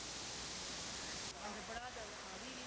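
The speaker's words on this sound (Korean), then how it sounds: "수십 미터에 달하는 폭포가 장관을 이루고 산세가 아름답기로 유명한 우라이산." Rushing roar of a waterfall tens of metres high on Wulai mountain in Taiwan, a dense, steady wash of water noise with someone narrating over it.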